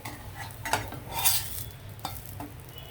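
Chana toast fries in ghee in a pan with a soft, steady sizzle, broken by a few scraping stirs and the clink of a spatula as the pieces are turned.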